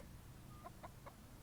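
A chicken clucks close by, three short soft calls in a quick even run over a steady low background hum.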